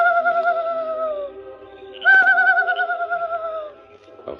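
A man imitates a night bird's call with two drawn-out, hollow cooing whistles separated by a short pause, clear and close in a quiet setting.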